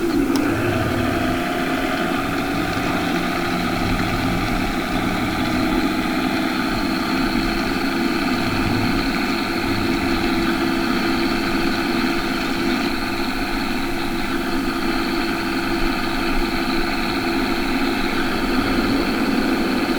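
A tractor engine runs at a steady drone throughout, loud and close with a constant hum and no change in pace.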